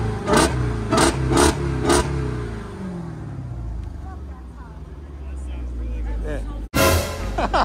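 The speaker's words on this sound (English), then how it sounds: "So let me rev it again for you guys." A 2021 Jeep Trackhawk with about 11,000 miles revs at a car dealership: several loud, close blips of the engine, then a long falling wind-down and a sharp fresh rev at the end, with people talking over it.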